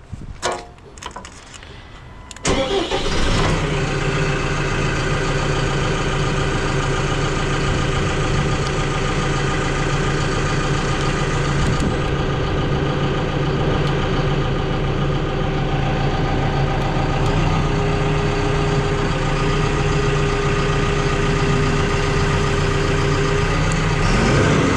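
A Putzmeister 1005 trailer concrete pump, used for shotcrete, idles with a steady loud mechanical drone and constant hum that runs unbroken after a brief start, with no talk.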